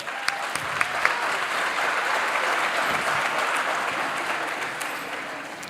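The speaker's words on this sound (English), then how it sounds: "A big applause for them" Sustained audience applause at a school community annual program, a dense steady wash of many hands clapping at even loudness, with a few louder claps standing out near the start and the sound tapering slightly toward the end.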